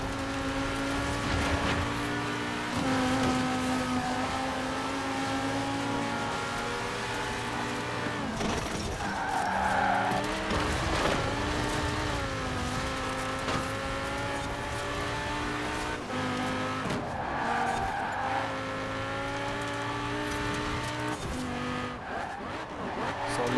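A Lamborghini Murcielago races in Forza Horizon 4 with a loud revving engine whose pitch climbs and drops through gear changes, and bursts of tire squeal cut in around the middle and again near the end.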